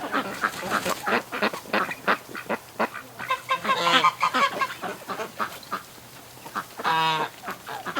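Wintering geese and ducks honk around a backyard bathtub, a rapid series of nasal calls near and loud at first, with a clear longer honking burst later, over faint outdoor background.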